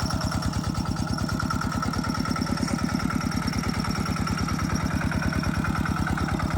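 A walking tractor's small engine chugs steadily at close range, its rapid low thumping pulses running evenly and unbroken from start to finish, with no voices.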